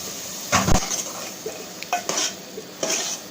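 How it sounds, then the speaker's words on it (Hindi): Boiled chana dal is stirred and fried in a pan: a handful of quick metallic scrapes and clinks of a spoon against the pan, with a soft sizzle between strokes and no talking. "तो हम ये अच्छे से फ्राई कर लेंगे दाल को"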